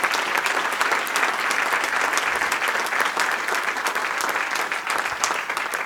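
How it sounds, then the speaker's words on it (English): A conference audience at a Latin American economic development forum gives a full, sustained round of applause. The dense, even clapping holds steady for about six seconds with no talk over it. "please, a round of applause for Emilio Lozoya"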